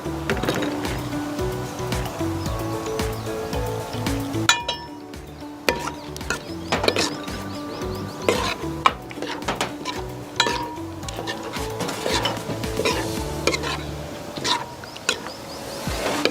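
Green chillies stirred and fried in a pan for millet biryani, with busy, irregular clinks and scrapes of a utensil against metal over a constant background of kitchen clatter, close and fairly loud.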